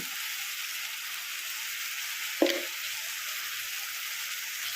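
Chili powder and coconut curry masala are stirred in a sizzling pan: a constant soft frying hiss, broken once by a single knock of a spoon against the pan.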